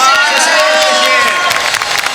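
A large crowd at a concert in Taipei Arena applauds and cheers loudly, a dense wash of clapping with a voice ringing over it through the first part.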